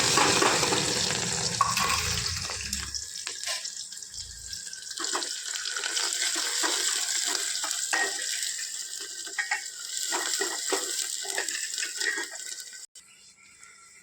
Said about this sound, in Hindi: अब डाल लूँगी इसमें प्याज